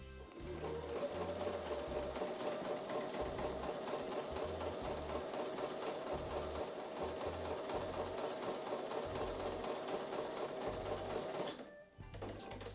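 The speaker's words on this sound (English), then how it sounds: "So I'm going to take those to the sewing machine and sew with a 1/4 inch seam." A sewing machine stitches small quilt fabric triangles with a quarter-inch seam, a fast, even mechanical chatter running steadily up close before stopping abruptly near the end.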